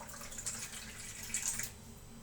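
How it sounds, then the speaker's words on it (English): Water poured into a pot for making applesauce in a home kitchen, a soft, steady trickle and splash of modest loudness heard alone for a couple of seconds. "I'm just going to add water because I don't have fruit juice."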